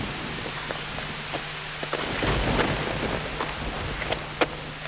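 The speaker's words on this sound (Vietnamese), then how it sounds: "Ê mưa kìa, mưa rồi" Rain pours steadily outdoors, a broad hiss with scattered drop ticks, while a low rumble of thunder swells briefly in the middle; no voices are heard.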